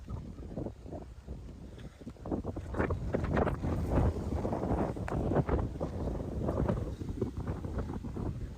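Wind gusts outdoors buffet the microphone, producing a steady, loud low rumble that swells and eases in uneven bursts for the whole stretch, with no voices.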